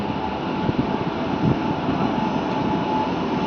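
Steady low rumble and hiss of a Tirupati to Hubli passenger train standing or moving at Gooty station platform, a continuous mid-distance drone with faint clanks, no talking.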